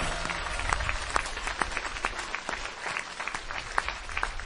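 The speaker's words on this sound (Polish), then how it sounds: "Brawa dla nich też, oklaski." An audience at a church gathering gives sustained applause, dense clapping from many hands with a few sharper individual claps standing out.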